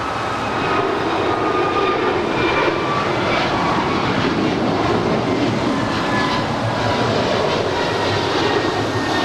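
Airliner taking off from runway 25 right at Los Angeles LAX airport, a loud, steady jet engine roar that holds at full strength throughout, broadband and continuous with no pauses.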